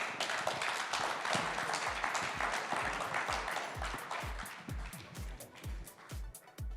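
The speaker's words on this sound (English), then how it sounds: "Let's give them a round of applause." A conference audience at an India education summit applauds a panel, the clapping thinning out into a few distinct, spaced claps toward the end.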